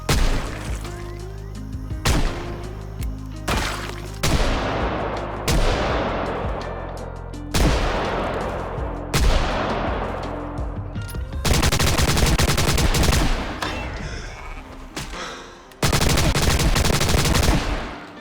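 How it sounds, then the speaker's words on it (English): Gunfire in the video game Project Zomboid, loud repeated bursts of shots and rapid automatic volleys with sharp booming onsets, separated by brief decaying gaps, with no talking. "my gunshot attracted even more zombies than I didn't foresee"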